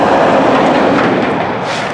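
Norfolk Southern intermodal freight train passing close and loud, a steady roaring rumble of rolling cars with faint rail clatter throughout, no voices.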